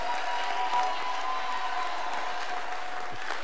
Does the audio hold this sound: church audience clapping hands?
yes